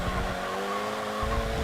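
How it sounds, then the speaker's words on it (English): A supermini race car engine in a racing video game at Sonoma burbling as the throttle lifts, with a steady droning tone and rumbling crackle, close and loud. "I like the sound of this car off throttle,"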